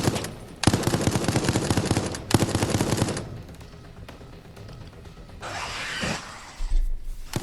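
Gatling gun in the Resident Evil Resistance video game rattling off in two long sustained bursts, followed by quieter gameplay noises and a brief hissing effect.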